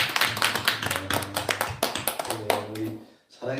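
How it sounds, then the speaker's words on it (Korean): A church congregation claps together to welcome a newcomer, a burst of many hands at close range with a voice speaking over and between the claps before a brief pause. "박수 한번 해주세요."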